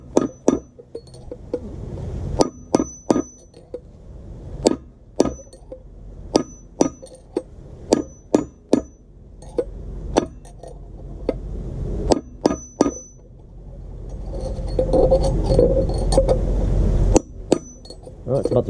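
A metal punch is hammered to drive a bearing race out of a boat trailer hub, producing a long series of sharp, ringing metallic strikes in an irregular rhythm, close and loud, with a rushing noise building near the end.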